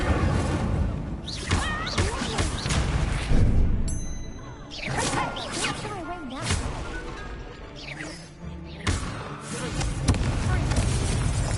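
Incendio fire spell cast repeatedly in Hogwarts Legacy amid combat, whooshing flame bursts and crashing impacts recurring loud and close over busy battle effects, with game voices in between.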